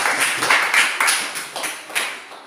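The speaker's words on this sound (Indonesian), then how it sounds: "Tepuk tangan." A classroom group claps after a discussion presentation, a steady patter of overlapping hand claps with a few sharper accents, fairly close and without speech over it.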